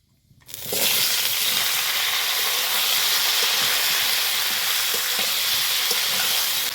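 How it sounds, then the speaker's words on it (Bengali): Vegetables hit hot oil with tempering spices, alongside lightly fried lentil dumplings, setting off a sudden loud, steady sizzle that stays dense and hissing without voices. "ফোড়ন দিয়ে দেব, এই সবজিগুলো এখন আমি দিয়ে দেবো"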